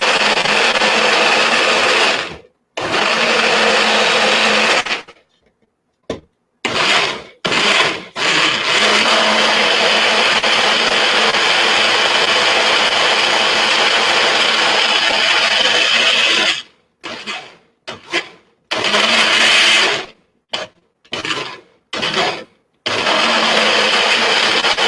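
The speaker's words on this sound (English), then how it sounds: "Okay, so putting the top on. And blending it." A blender whirs through a smoothie in long, loud, steady runs, repeatedly stopped and restarted in short bursts.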